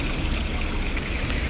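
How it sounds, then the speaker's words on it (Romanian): An old public water fountain running outdoors, a continuous dense splash and trickle of falling water, close and steady with no voices. "văd că este menținută în funcțiune fântâna respectivă"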